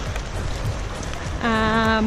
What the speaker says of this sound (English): it's raining for the first time since we've been in Nepal